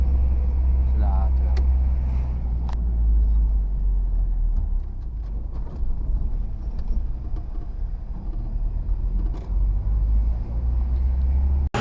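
Road traffic rumbles past in Lobo, Batangas: a deep, steady low engine drone of cars and vehicles close by, with occasional brief clunks and people chatting over it throughout.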